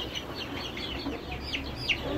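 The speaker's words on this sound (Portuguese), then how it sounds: "Pronto, estão aí minhas galinhas." Laying hens cluck softly in a farmyard coop, with short, scattered calls over a steady background hiss and no one speaking.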